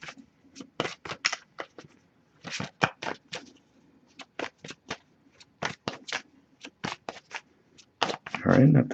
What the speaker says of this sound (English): I'll give a few more shuffles.